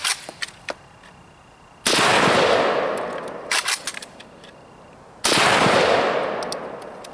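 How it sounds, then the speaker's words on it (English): AK-47 rifle fired after a sand test: two loud sharp reports with long ringing tails, each followed by scattered small clicks and rattles of the action, close and without talk. "we'll give it a try right now, see if we can get the gun to fire."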